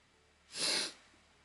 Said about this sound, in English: I had one of those sneezes. Like, it was internal.